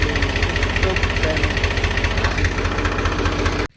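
A tractor engine runs steadily at a distance in a dusty cotton field, a continuous low rumble and idle-like chug that cuts off abruptly near the end.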